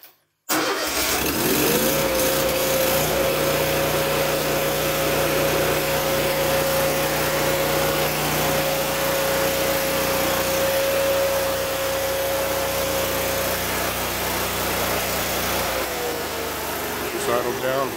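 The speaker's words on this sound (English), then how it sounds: "So here we go to start it." A Miller Bobcat NT 8000 watt welder generator cranks and catches, then runs as a loud, steady engine drone with a sustained whine, nearby and alone, before the note shifts slightly near the end.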